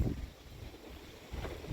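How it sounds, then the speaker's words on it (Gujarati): Strong wind gusts across open farm fields, heard as a low, rumbling buffeting roar against the microphone that swells at the start and end. "આ બાજુ બગલા ખેતરમાં બરોબરનો પવન ચડ્યો"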